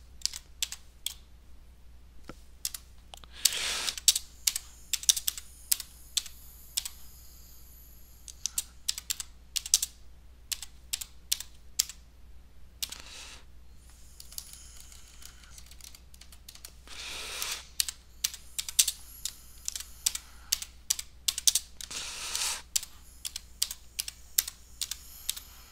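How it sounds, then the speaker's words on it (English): Steady typing on a computer keyboard while entering a comment in Excel Online, with continuous close key clicks and occasional louder spacebar or enter strikes, irregular rhythm and brief pauses throughout. "simply type your comment in the text box"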